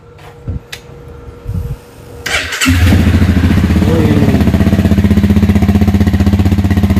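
A supermoto motorcycle with a Pro Speed exhaust fires up after some clunks and handling noises, then settles into a loud, rapid, throbbing idle with light revving, close by, at a workshop in Bali.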